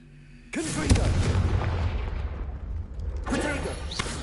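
Confringo fire spell from Hogwarts Legacy erupting as a sudden loud boom that decays into a rolling, crackling rumble, followed by a fainter whooshing burst near the end; a voice briefly speaks over it.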